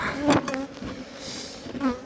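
Honey bees buzz close by around an opened hive during a honey harvest, a wavering, droning hum that swells and fades over a few seconds, with no talking.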